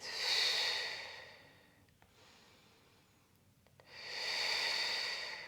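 Slow, deep breaths during a back-care mobility workout: a long audible exhale, a quiet pause, then another full breath, close and soft.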